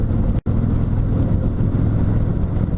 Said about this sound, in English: Sounds like you'd expect of a Harley with stock pipes.